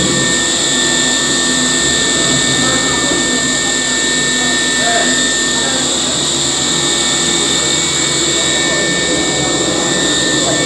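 Loud, steady high-pitched whine and roar of a CNC milling machine cutting a metal mold, constant tonal drone throughout with no breaks.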